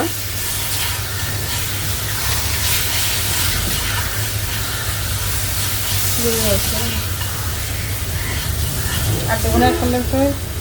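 Continuous sizzling of lachha frying in hot oil in a pan fills the scene, with brief voices heard faintly in the background.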